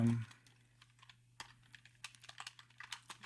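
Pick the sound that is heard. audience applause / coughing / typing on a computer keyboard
typing on a computer keyboard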